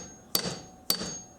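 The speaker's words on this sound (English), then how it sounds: "I'll use the end of a hammer and maybe we can break it free." A hammer hits a socket wrench on the seized flywheel bolt of a Honda Trail 90 with a stuck piston: two sharp, close metallic strikes about half a second apart, each ringing briefly.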